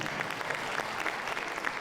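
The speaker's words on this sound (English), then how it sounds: "Give a round of applause, everybody." An audience applauds at a dog show ring, steady dense clapping from many hands that carries all the way through without a break.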